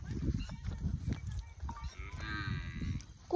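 Buffalo on a muddy farm path through a field, a short low lowing call with a nasal tone near the middle, heard nearby over squelching footsteps and rustling.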